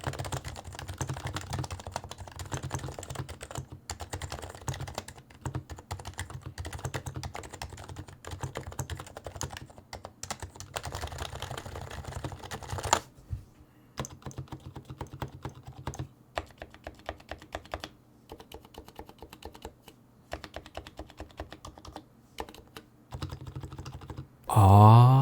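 Steady typing on a Happy Hacking Keyboard Hybrid Type-S with Topre switches, a dense, soft run of muted keystrokes with the occasional heavier thock from the spacebar, close up and without talk.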